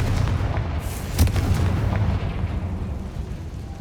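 The Confringo blast spell explodes in Hogwarts Legacy: a loud, booming burst that rolls into a dense, rumbling roar and slowly fades away.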